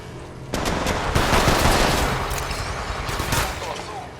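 Rapid automatic gunfire from a Spitfire-style weapon in the mobile shooter Apex Legends Mobile, loud and dense bursts continuing for several seconds with brief dips, a voice faintly present beneath the shots.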